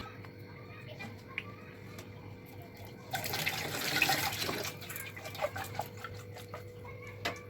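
Running water splashing steadily from a tap while goat intestines are washed by hand, rising into a louder gush midway, with faint background noise and a bird calling in the distance.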